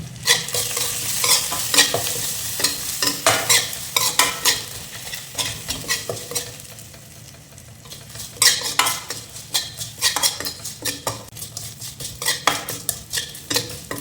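Onions and lemon rice ingredients with turmeric sizzle and crackle in a hot pan while a utensil scrapes and stirs in quick, irregular strokes, close up with no voices.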